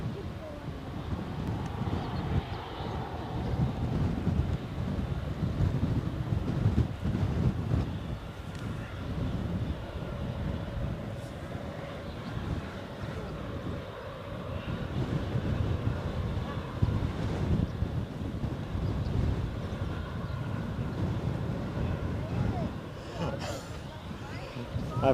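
Gusty wind buffets the microphone outdoors at Edinburgh airport, a steady low rumble that rises and falls throughout without pause.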